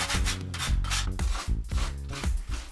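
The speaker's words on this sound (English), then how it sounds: "I'm just sanding this down slightly just to make sure that there's no sharp bits." Wood for a homemade wooden crate is sanded by hand, rapid rough scratching strokes repeating in a steady back-and-forth rhythm, loud and close with no talking.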